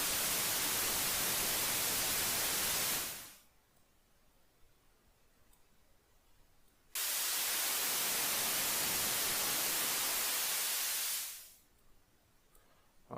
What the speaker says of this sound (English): I'm going to just use the high pass filter for the noise.